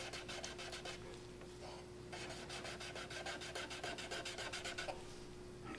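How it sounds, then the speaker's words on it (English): Quick rhythmic scrubbing on the plastic gauge cluster lens of a 1974–1985 full-size Jeep, close but quiet, a steady rasping back-and-forth with brief pauses, no talk. "so keep scrubbing"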